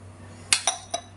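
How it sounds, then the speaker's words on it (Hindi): Metal utensils clink against a pressure cooker being set up for cooking rice and chickpea curry in a home kitchen, three sharp close knocks in a short burst over a steady low hum. "अब जो है कुकर सेट कर देंगे"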